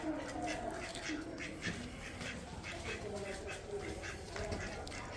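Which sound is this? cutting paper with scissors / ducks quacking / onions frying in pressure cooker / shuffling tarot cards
ducks quacking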